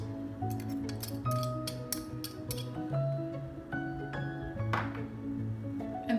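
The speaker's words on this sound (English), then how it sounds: "And stir that with a fork." Fork clinking repeatedly against a mug while stirring chocolate mug cake batter of cocoa powder, baking soda and salt, a steady run of small metallic taps over a quiet kitchen background.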